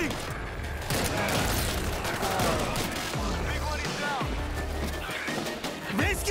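Machine gun fire in the video game World War Z, dense rapid bursts layered with explosions, crashes and battle noise, with characters shouting over the gunfire.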